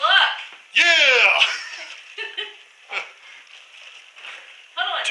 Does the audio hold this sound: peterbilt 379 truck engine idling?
no